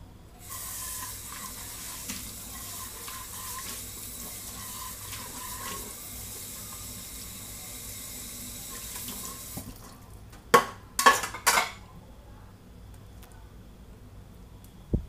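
Household washing with a tap running in a steady, moderately loud hiss for about ten seconds before it shuts off, followed by a few clattering knocks and splashes in a quiet room.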